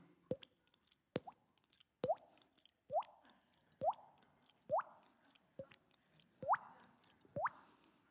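A man's mouth imitates a water drip, combining two sounds into a series of hollow, rising plops. About nine drips fall at a steady, nearly one-per-second pace, close and clear, with no other voices.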